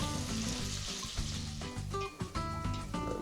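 Onions frying in olive oil and butter, a close, quiet sizzle with crackling pops, broken by a few brief clunks and knocks of cookware.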